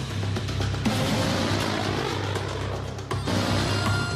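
An AC-130U gunship, a four-engine propeller aircraft, drones steadily overhead with a broad, continuous engine roar and propeller hum, fairly loud and unbroken, with no voices.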